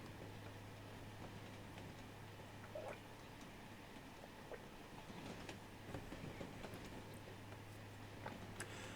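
A train runs slowly at about 25 mph past York Station in Transport Fever 2, a faint steady rumble with a constant low hum and scattered light clicks of wheels on track.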